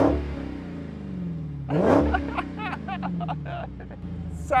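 A Dodge Challenger Demon engine revs hard and bounces against its soft limiter near 4,500 RPM, a loud, close raucous roar that climbs, then stutters in rapid rhythmic pulses.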